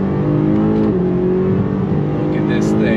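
A 2022 BMW M5 CS sedan is driven hard, its engine pulling with a loud, steady roar from inside the cabin that shifts pitch slightly, with a voice heard over it.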